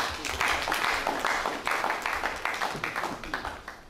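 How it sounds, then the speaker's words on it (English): Audience applause at a two-day workshop on inmate behavioural and cognitive modification, a moderate round of clapping that starts up, holds with some scattered cheers, then gradually thins out. "Give her a round of applause."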